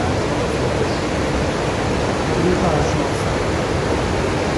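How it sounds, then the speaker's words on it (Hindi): Waterfall on the route between Shiraz and Isfahan in Iran, heard as a loud, steady broadband rush of falling water filling the whole clip without pause. "ये वाटरफॉल है"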